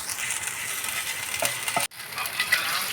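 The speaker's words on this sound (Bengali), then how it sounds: "আদা রসুনটাকে আমি তেলের মধ্যে একটু হালকা করে ভেজে নেব।" Ginger garlic paste fries in hot oil in a pan, giving a steady broadband sizzle with a few stirring clicks near the middle and a brief dropout before the crackle resumes at full strength.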